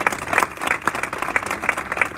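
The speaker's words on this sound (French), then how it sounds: "On l'applaudit." Loud, close applause from a rally crowd outside the France 24 headquarters as Mziane Abdan is named, dense irregular clapping for about two seconds with no voices over it.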